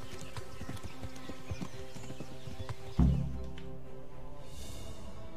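Hoofbeats from a horse being ridden in Kingdom Come: Deliverance, a steady clip-clop rhythm that stays even throughout, with a sudden low thud partway through.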